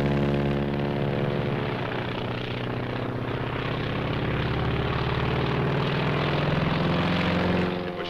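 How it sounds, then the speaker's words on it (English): A Japanese Zero fighter plane flies with a steady, loud propeller engine drone and a thick harmonic hum that holds throughout, with no voices. "That's a Zero, the real McCoy."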